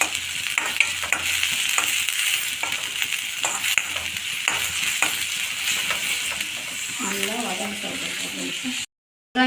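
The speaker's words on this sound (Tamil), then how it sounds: "நல்லா வெங்காயம் நல்லா ஃப்ரை ஆகிடுச்சுக்கோங்க" Onions and green chillies fry in a pan, with a steady sizzle and repeated scraping stir strokes. A voice briefly talks near the end before a short break in the sound.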